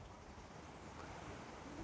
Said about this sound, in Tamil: காத்தடிக்குது.